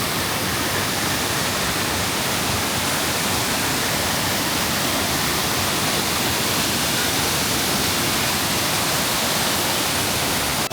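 Killen Falls near Byron Bay pours as a dense, unbroken roar of falling water, loud and close, a constant broadband rush with no pauses or other sounds standing out.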